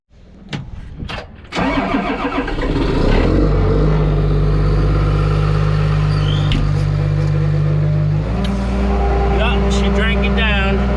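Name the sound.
Komatsu D51 bulldozer engine running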